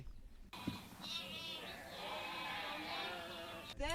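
Goats of the Imba people bleat in a wavering, nasal cry that carries close and steady for about three seconds, with a second bleat starting just at the end.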